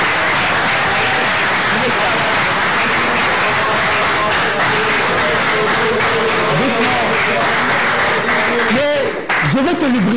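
Applause from an audience thanking a speaker at an indoor gathering, steady and dense for several seconds, with voices talking over the clapping throughout.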